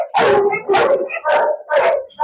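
A large guard dog in bite training with a towel barks four times in a steady rhythm, loud and close, each bark a harsh burst separated by short pauses.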